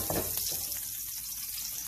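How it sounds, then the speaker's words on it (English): Chopped green chilies sizzle and fry in hot oil in a pan, a steady close crackling hiss that holds for the full couple of seconds with no voices. "And I'm going to throw in my chopped green chilies."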